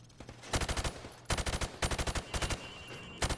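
Rapid bursts of rifle fire in Call of Duty: Modern Warfare crack out in quick volleys at a firing range, loud and close, with brief pauses between strings of shots.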